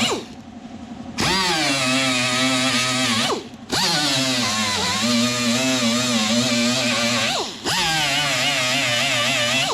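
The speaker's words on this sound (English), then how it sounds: "So I'll get a paint removing disc now." A power tool fitted with a paint-removing Scotch-Brite disc grinds on a Ford Falcon XC GXL bonnet, giving a loud whining spin that rises in bursts, cuts briefly between passes, and wavers in pitch as it is pressed.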